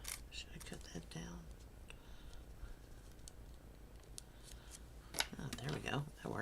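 Quiet snips of scissors cutting craft material at close range, short crisp cuts scattered through soft background noise, with a few faint murmured words.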